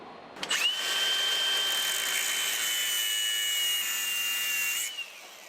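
A high-pitched power tool spins up and cuts into a Torx T40 bit, holding a steady shrill whine for several seconds before winding down, close and alone.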